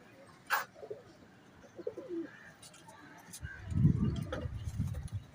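A pigeon kept for nine years coos close by in a rooftop loft in a town. Soft, low, throaty coos swell in the second half, with a few bird chirps and someone talking nearby.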